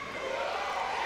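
A boxing crowd at a Chris Greene fight roars in a steady, distant wash of cheering for the hometown fighter.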